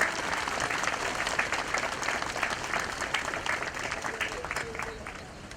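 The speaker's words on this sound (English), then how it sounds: "I'd like to just ask you for a round of applause for our Marine Band" Audience applause for a Marine Band and POW singers at a burial ceremony for fallen paratroopers, a dense, steady wash of clapping from a large crowd lasting throughout and tapering at the end.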